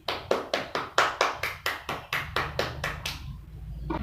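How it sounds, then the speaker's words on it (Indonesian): A small group claps in quick, even rhythm, about a dozen sharp claps close by, then the clapping fades out. "Kita berikan tepuk tangan untuk semua kelompok yang ada di sini"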